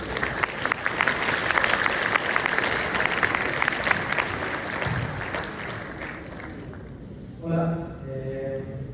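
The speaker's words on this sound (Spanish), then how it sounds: "Ofrezcámosle un fuerte aplauso." Audience applause for a speaker introduced from Guanajuato's health secretariat's addiction care centre, a dense, sustained clapping that thins and fades near the end as a voice begins to speak.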